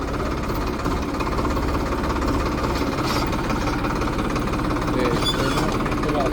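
A Mahindra tractor engine runs continuously on a potato farm with a heavy, rhythmic knocking chug, steady and close for the whole stretch.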